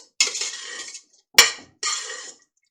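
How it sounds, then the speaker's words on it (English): A utensil stirs seasoned ground meat in a bowl to work in the spices, making three distinct scraping strokes with brief clinks. The strokes are close and clear, with silence between them. "stir that up good to just incorporate all of those spices into the meat"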